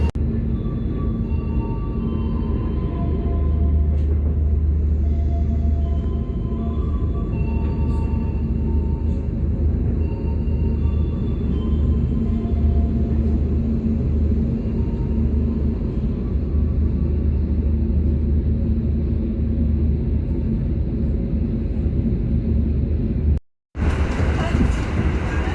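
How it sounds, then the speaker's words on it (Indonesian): Executive passenger train pulling out of Tulungagung station on line 1, a steady low rumble and engine drone heard from aboard, continuous and fairly loud throughout with a brief dropout near the end. "Makanya keretanya langsung diberangkatkan dari stasiun Tulung Agung."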